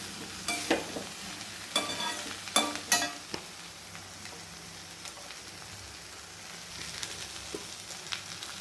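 Okra frying in a pan with chili powder, stirred so a soft continuous sizzle runs under sharp bursts of spatula scraping and clatter early on, settling into quieter steady frying.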